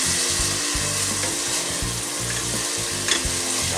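Onion and chicken sizzle hard in a casserole deglazed with dark beer, a loud close crackling fry with repeated stirring scrapes.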